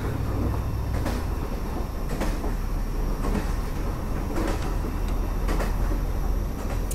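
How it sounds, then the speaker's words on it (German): A train runs on rails at about 85, with a continuous loud rumble and repeated rhythmic clacks of wheels over rail joints heard from inside the carriage. "der Sound von den Schienen ist doch echt cool"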